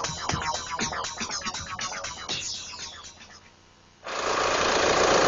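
A running car engine, idling with a steady mechanical patter and rhythmic knocking, then a sudden jump to a loud, dense roar near the end, with no one talking.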